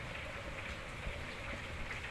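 Heavy rain falls steadily outdoors during work on an engine's valve cover, a dense, even hiss of drops on surfaces, close and constant with no talk.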